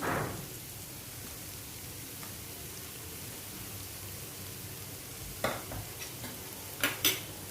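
Spring onion greens stir-fry with stuffed squid in oil, producing a constant faint sizzle and hiss, broken by a few sharp spatula clicks and scrapes near the end, with no voices.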